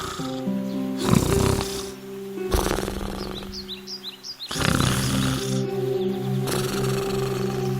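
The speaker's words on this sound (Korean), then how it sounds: "늑대는 그곳 나무 아래 누워 코를 골며 잠을 자기 시작했어요" Cartoon wolf from an animated fairy tale snoring while asleep under a tree in a big yard, with slow rhythmic loud snores over a steady background music bed, with little bird chirps heard in between.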